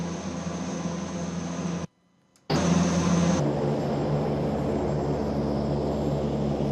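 Airbus A400M turboprop engines roaring at full power in the X-Plane flight simulator with one engine out, a steady broadband drone with a high whine, cut by a brief dropout before resuming and settling slightly lower.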